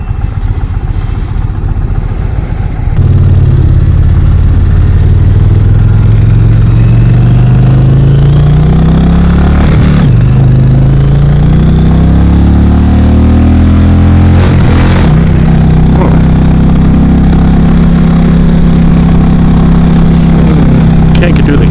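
A 2023 Indian Darkhorse Pursuit motorcycle engine under way on twisty roads, loud and close with steady wind rush, its pitch climbing and dropping through gear changes, with brief dips around each shift.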